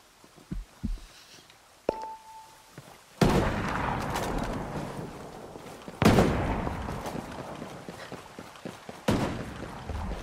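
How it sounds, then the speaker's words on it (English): Gunfire in the video game Ghost Recon Breakpoint: a few sharp early pops, a short tone, then three loud booming bursts with ringing tails, each followed by a fading rumble. "I hear gunfire."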